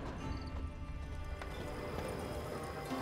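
Horses clip-clop steadily on the ground in The Witcher 3, a continuous rhythm of hoofbeats close by under game ambience, with a brief whinny-like touch.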